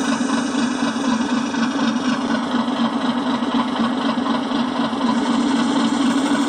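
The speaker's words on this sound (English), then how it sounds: "And then the air generator will start up." The air generator on a brushless 5 inch narrow gauge model maintenance train runs with a steady, loud, close-up mechanical hum and drone throughout, alone without talk.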